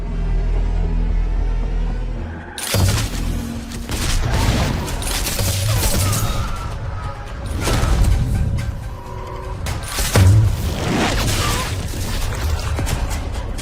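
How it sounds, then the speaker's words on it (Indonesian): Gunfight in a Fallout story, with bursts of gunfire, heavy booms and crashing impacts from several shooters, loud and chaotic over a rumbling background with no talk. "aksi tembak-tembakan antara Muklis dan semua orang di sana pun terjadi."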